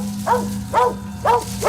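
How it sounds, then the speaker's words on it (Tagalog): Dogs in a village bark in loud, evenly spaced woofs, four barks in under two seconds, close by over a steady low background hum. "Tahol ng mga aso dito oh."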